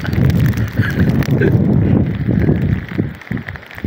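Strong typhoon wind roars steadily into the microphone, a dense rumbling buffet with gusty surges and no clear voices.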